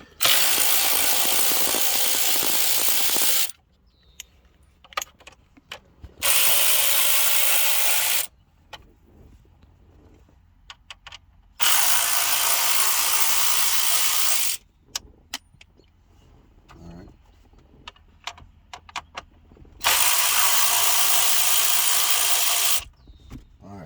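Star screws are driven out of a 1998 Cadillac DeVille instrument cluster, probably with a powered driver: four loud, steady whirring bursts of about three seconds each, separated by quiet gaps with small clicks and handling noises.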